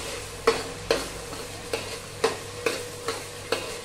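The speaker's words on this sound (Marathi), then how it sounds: "जिरे, 4-5 लवंगा, वेलची हे सगळं याच्यात जाणार. मस्तपैकी हलवून घेऊया." Cumin seeds, cloves and cardamom being stirred in hot oil for navratan pulao: a constant sizzle broken by about eight regular spoon scrapes against the pan, close and clear, with no voices.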